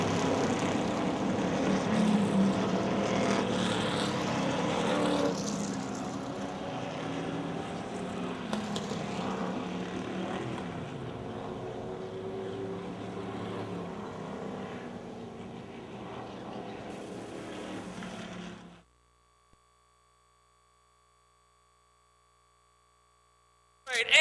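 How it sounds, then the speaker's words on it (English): Street stock race cars roar toward the checkered flag at a speedway, a dense, steady engine drone that holds for most of the stretch before cutting off abruptly into near silence. "A challenge as they head to the checkered flag."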